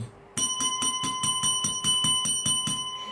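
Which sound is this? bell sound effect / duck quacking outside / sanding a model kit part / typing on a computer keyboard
bell sound effect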